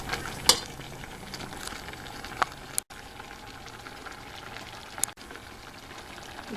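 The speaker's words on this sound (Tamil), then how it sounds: "நான் இப்போ இதில் இன்னும் கொஞ்சம் தண்ணி விட்டு நல்லா கொதிக்க வைக்க போகிறேன்" Spinach sambar bubbles in a pot with water added, a low steady simmer broken by a few sharp clinks and taps.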